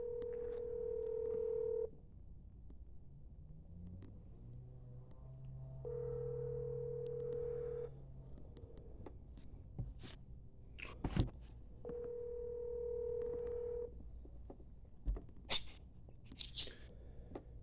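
A telephone call to a mother: steady tones sound in three separate stretches, interrupted by a few knocks and clicks of handling, and end with two short chirping beeps, all close and fairly quiet.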